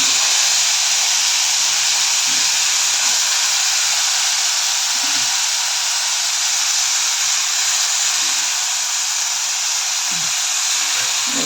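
Dill greens frying in oil in a pan, seasoned with asafoetida, give a steady broad hiss and sizzle that stays constant throughout, with faint low clinks and movement underneath.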